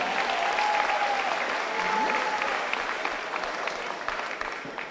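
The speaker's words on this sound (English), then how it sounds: "please clap, no problem" Graduation audience at a Poughkeepsie High School ceremony applauds in a steady, dense wash of clapping that holds for about five seconds and tapers slightly toward the end, with faint cheering tones above it.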